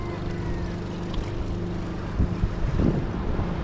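Strong wind buffets the microphone beside the sea while waves slosh and break close by, forming a continuous rough roar with a few heavier splashes near the end.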